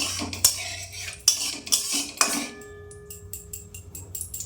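A utensil stirs oil in a metal pan while cooking an eggplant and egg omelette, giving several sharp scraping clinks in the first half, then quieter light taps and a thin ringing tone, close up with no talking.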